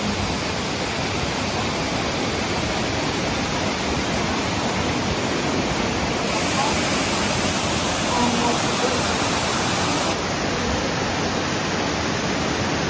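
A waterfall in Vietnam roars with a loud, constant broadband rush that fills the whole stretch.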